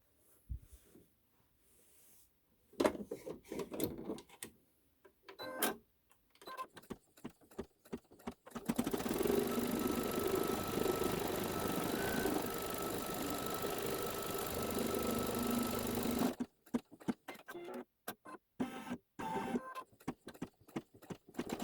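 Sewing machine stitching background fabric onto a quilt block, a steady mechanical whir running for several seconds in the middle, bracketed by scattered handling clicks and quieter pauses.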